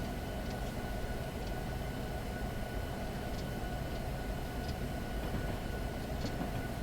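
Coal train in Train Simulator 2019 on the UP Pleasant Valley coal route, slowing down with a steady, dense rumbling drone and faint metallic squeals and clicks over it, no talking.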